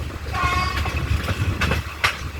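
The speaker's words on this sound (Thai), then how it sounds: "ก็จะเข้าจอดสถานีทุ่งสง ซึ่งเป็นชุมทางทุ่งสงนะครับ" Rapid train 168 pulls into Thung Song junction station in Thailand, a nearby rumble of rolling wagons with squealing brakes and clanks.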